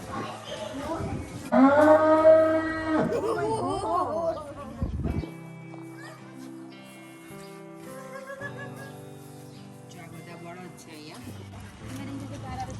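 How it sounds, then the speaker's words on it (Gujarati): Cattle mooing at an ISKCON temple cow shed during Rath Yatra celebrations, with one long loud low moo near the start and quieter lowing after it, while people talk over it. "હવે એની બીજી બાજુ છે બુલ છે"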